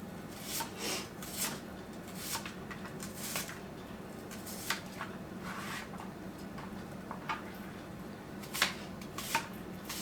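Sweet Vidalia onions sliced with a knife on a board, a series of crisp cutting strokes at an uneven pace, close and clear with no talking.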